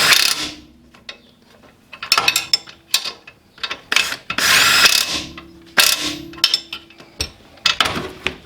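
Strut bolts on a lowered Daihatsu Mira are worked loose with a ratchet, bursts of rapid close clicking between pauses, along with metallic clanks and a few short whirring spins.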